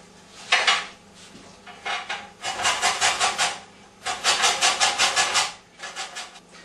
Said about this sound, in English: first job to do is to grate the rind off the lemons